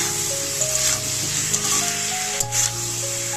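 Spices with garlic and cumin paste fried hard in a pan for a raw-banana and fish curry: a steady, close hiss of sizzling oil continues throughout beneath a layer of tonal background music.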